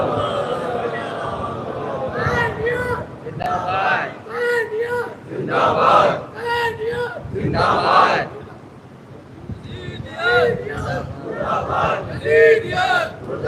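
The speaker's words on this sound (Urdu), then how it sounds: "ایک صلوات بلند آواز سے محمد" A large mourning gathering at an imambargah in Lucknow for Yaum e Abbas recites salawat aloud in unison, a loud, surging chorus of many voices rising and falling in waves across the hall.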